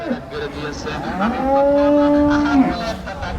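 A bull at a cattle market lets out one loud, close, drawn-out moo lasting about a second and a half, over faint crowd noise in the background.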